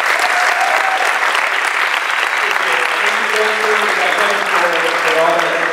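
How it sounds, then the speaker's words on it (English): A demo day audience in Miami breaks into sustained, loud applause that fills the room, with voices and a few cheers mixed in throughout. "How about a round of applause for Peter and Brian for putting this on?"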